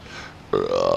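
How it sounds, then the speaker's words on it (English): A single loud, close belch erupts after a moment of quiet and rumbles on briefly. "Whoa, belch."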